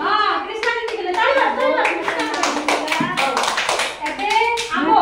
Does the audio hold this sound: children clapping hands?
yes